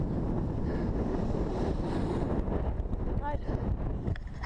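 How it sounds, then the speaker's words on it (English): Strong outdoor wind buffets the microphone during a run-walk workout, a loud low rumble that swells and gusts throughout, with someone speaking briefly. "Oh, the wind has just hit us there."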